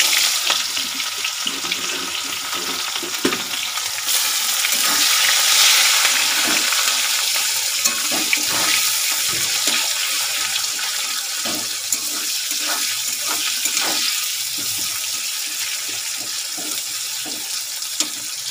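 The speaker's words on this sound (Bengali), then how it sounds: "শুকনো লঙ্কা, তেজপাতা, গোটা জিরে ফোড়ন দিয়ে দিলাম, পেঁয়াজগুলো লাল লাল করে ভেজে নেব" Onions frying in oil with dry red chilies, bay leaf and whole cumin for a meat curry, a steady broadband sizzle with scattered spatter pops and occasional stirring scrapes, close and continuous with no talking.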